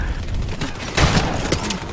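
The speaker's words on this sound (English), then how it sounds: "that is a shotgun. Oh snaps! He threw a grenade!" Call of Duty 4: Modern Warfare gunfire, a shotgun blast and grenade in a multiplayer match, with sharp booming reports over a busy game soundscape.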